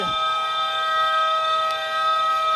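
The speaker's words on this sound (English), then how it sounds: "that's the sound of the buzzer ending the first half." A loud, steady electronic buzzer ending the first half of a basketball game drones for the whole stretch, constant and piercing, with a faint noisy arena crowd underneath and no talking.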